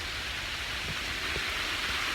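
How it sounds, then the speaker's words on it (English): Rain falling in woods, a steady soft hiss of drops on leaves and ground with a few faint patters, continuous and fairly quiet with no talking. "It's raining around me, but nowhere else."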